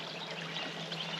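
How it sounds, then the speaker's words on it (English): Water from the Harris Dam overflow bubbles and trickles over rocks below, a soft, steady babbling stream heard faintly and alone for a brief moment. "especially with the sound of the water just bubbling its way through the rocks below."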